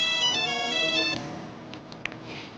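A phone ringtone for an incoming call plays as a bright repeating electronic melody for about a second, then cuts off, leaving faint room noise and a few small clicks.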